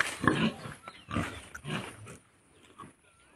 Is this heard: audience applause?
no